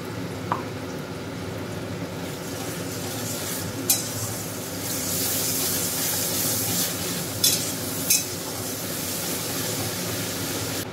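Spice paste for a country chicken curry with potatoes being stirred and fried in a pan, a steady soft sizzle with scraping spoon strokes and a few sharp clinks, no talking.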